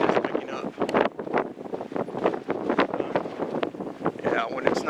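Strong, gusty wind roars across the microphone outdoors on a mountain lookout, buffeting steadily in uneven surges for several seconds, with a voice faintly mixed in beneath.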